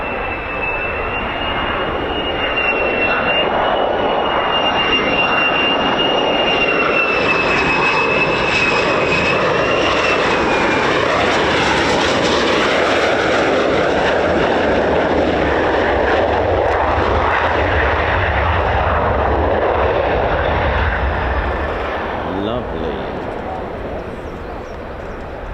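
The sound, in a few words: F-15 and F-35 fighter jets landing at RAF Lakenheath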